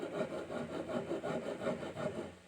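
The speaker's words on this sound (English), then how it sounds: "abrasive file, more abrasive than we usually have, but it's still skinny" An abrasive file rasps along a wooden guitar neck in steady back-and-forth strokes, close and fairly loud, about eight rhythmic passes with no talking.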